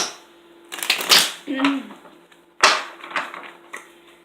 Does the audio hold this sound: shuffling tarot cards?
yes